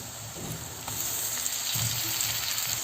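Ginger-garlic paste and tomatoes fry in a pan for an Assamese dry fish dish, a steady close sizzle with occasional soft stirring scrapes.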